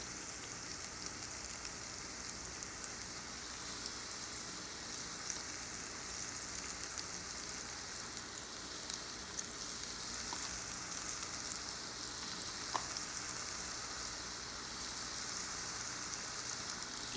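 Flour-coated chicken frying in a cast iron pan, with a steady, dense sizzle and hiss throughout and a few faint pops and crackles, with no talk.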